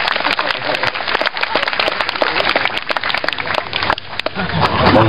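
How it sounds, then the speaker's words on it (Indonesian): An audience at an Indonesian talk show gathering claps for a guest, loud and close, with sharp individual hand claps over crowd noise and voices. "tepuk tangan untuk Mas Jo"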